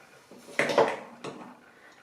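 A tablespoon stirs stewed apple in a pot, giving a few close metallic clinks and scrapes against the pan over a couple of seconds.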